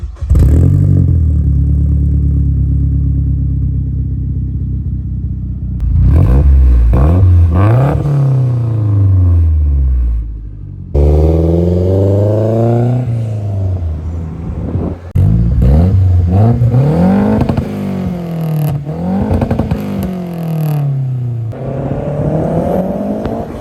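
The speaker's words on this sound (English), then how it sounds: "it's a full exhaust, 3-inch all the way back, downpipe, so a race pipe, so a cork sport" Mazda Speed 6 with a big turbo, full bolt-ons and a Corksport 3-inch full exhaust with race-pipe downpipe, revved repeatedly from a loud idle in rising and falling sweeps, deep and raspy close up.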